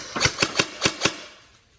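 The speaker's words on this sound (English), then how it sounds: "now we're ready for obviously just test a single shot and trigger response" A G&G FFRA2 airsoft AEG on an 11-volt setup fires five quick, sharp mechanical shots in an even rhythm, close and crisp, then falls quiet.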